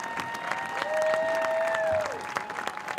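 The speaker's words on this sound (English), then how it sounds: "How about a round of applause for our football seniors?" A crowd claps steadily throughout for high school football seniors at a live game, with sustained tones ringing out above the applause before sliding down near the end.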